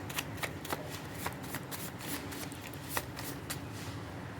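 A deck of tarot cards is shuffled by hand in a card reading, a dense, continuous riffle of papery flicks and slaps close up, steady for several seconds with no voice over it.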